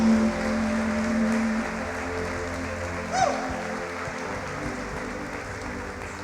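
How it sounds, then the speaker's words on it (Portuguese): A church congregation applauds during an evangelical Portuguese-language sermon, with sustained keyboard-like tones under it. The clapping is moderate and steady, with a brief swell near the start and another in the middle. "Suas palmas exaltam e glorificam"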